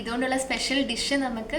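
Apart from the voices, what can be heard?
No everyday noises stand out.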